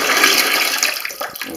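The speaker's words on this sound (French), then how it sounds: "J'ai mis une bassine en dessous et on va récupérer l'eau." Water gushes loudly from an unscrewed sink trap into a basin below, a brief, dense rushing splash that tapers slightly toward the end.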